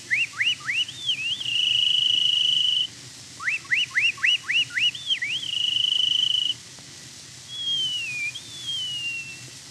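A man whistles an imitation of a meadowlark song, in clear high phrases: rapid upward slurs that end in long sustained notes, repeated twice, then a softer descending whistle. It is heard alone over faint low background hum.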